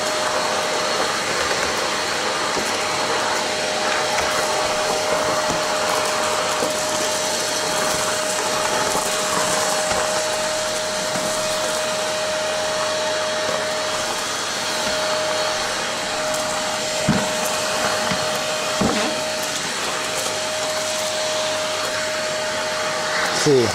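A vacuum cleaner runs continuously while drawing wheat grain through it, a steady loud whine and roar with a sustained tone and occasional rattles and knocks as grain passes.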